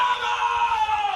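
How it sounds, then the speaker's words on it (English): A pickleball player on a championship court lets out one sustained, strained scream that holds steady for over a second, loud and close, over faint court noise. "Zane screams right back at him"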